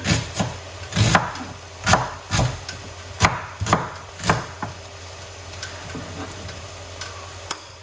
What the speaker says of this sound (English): I'll cut up some white onion